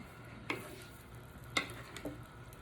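Shrimp with olive oil and garlic being stirred in a skillet, a quiet sizzle underneath and a few sharp clinks of the utensil against the pan, spaced irregularly.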